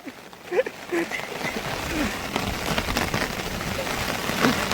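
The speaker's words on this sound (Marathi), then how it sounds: "पाऊस बघा कसला आलाय, एकदम झोड काढतोय, एकदम वाऱ्यासोबत आलाय" Heavy rain driven by strong wind pours down on open farmland, a dense continuous hiss and patter with gusts swelling the roar, while voices sound faintly through the downpour.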